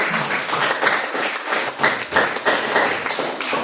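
Classroom applause from a group of junior high school students at SMPN 3 Boawae, steady dense clapping with irregular peaks lasting a few seconds, close and lively, with no talk over it.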